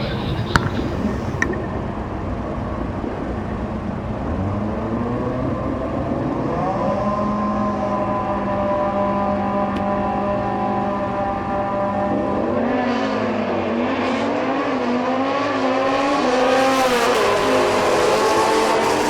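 Drag race cars launch and roar down the strip at a national-event finals, engine note rising steadily as they accelerate away, loud and continuous throughout with a brief tire chirp near the start and no talk.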